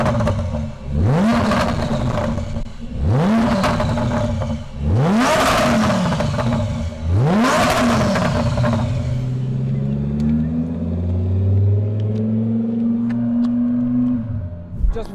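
Twin-turbo 1028 hp Audi R8 revving hard in three loud, rising bursts, then driving off with a steady engine drone fading into the distance.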